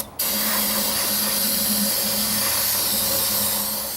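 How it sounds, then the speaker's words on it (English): Carb cleaner sprayed into a GM throttle body in a continuous loud hiss that starts abruptly and holds steady for several seconds, close up, with no talking. "I sprayed some carb cleaner"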